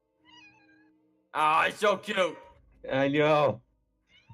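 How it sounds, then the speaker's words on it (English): A pet cat meows near the mic in a few drawn-out calls, loud against a quiet room, with a voice speaking briefly in between. "she meows because she wants to keep playing"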